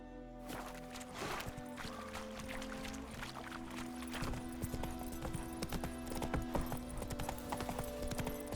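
Hooves clop in a brisk, steady trot in The Witcher 3, up close and continuous over a layered game soundscape, with no voices.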